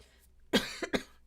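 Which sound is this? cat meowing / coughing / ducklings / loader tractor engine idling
coughing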